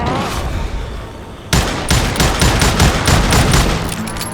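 Rapid gunfire rings out in the Western shooter Call of Juarez Gunslinger, a loud burst of closely spaced shots that bursts in after a quieter stretch and keeps cracking in an uneven rhythm, with no talk over it.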